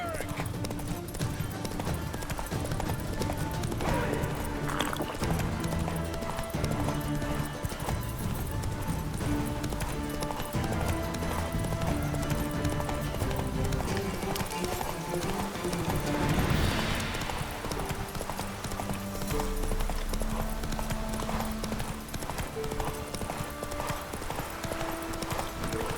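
In The Witcher 3: Wild Hunt, the horse Roach gallops with a rapid, unbroken clip-clop of hooves that carries on at a steady level amid dense game ambience.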